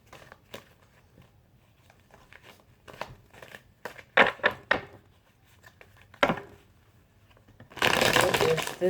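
Tarot cards being shuffled by hand, soft riffling and tapping that builds to a dense, loud burst of rapid shuffling at the end, close up with no talk over it.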